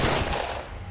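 A single loud gunshot-style bang opens sharply and decays quickly into a short fading tail, standing alone without speech.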